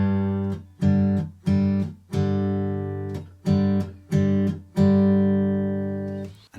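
Acoustic guitar strums a rhythm on the open 3rd, 4th and 5th strings, seven or so sharp strummed chords in a loose repeating pattern, each ringing out before the next, played alone and close.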